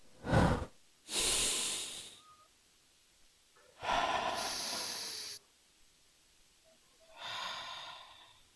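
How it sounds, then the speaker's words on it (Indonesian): Three long, deep breaths, each a loud airy rush lasting over a second, come after a short sharp intake, with quiet pauses between them and no talk. "Kita tarik lagi napas ya."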